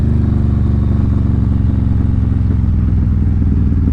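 Motorcycle riding along rural backroads in Tennessee, a loud, close, steady engine drone with rhythmic low pulsing and wind rumble throughout, no talking.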